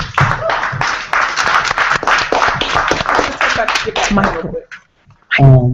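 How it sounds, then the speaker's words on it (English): A town hall audience gives a round of applause, a rapid ragged clatter of many hands at fairly close range that stops abruptly near the end, followed by a brief pause and then a voice speaking. "Round of applause, everybody."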